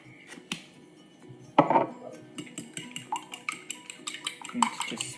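Whisking seasoning and coriander together in a bowl during a healthy-heart cooking masterclass: a run of quick, light clinks and taps of utensil against bowl, fairly close and moderately loud, with no talking.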